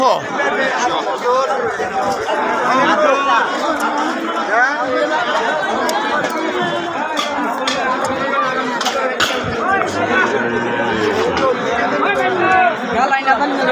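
Dense crowd chatter fills the main cattle market in Dharmapasha, Bangladesh, a steady babble of many overlapping voices close by, with no pauses and no single voice standing out.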